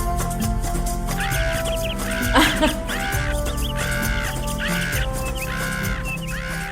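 Two cartoon birds in an animated film squawk in a steady run of repeated, evenly spaced calls over a loud music and sound-effect bed, with a brief louder burst partway through.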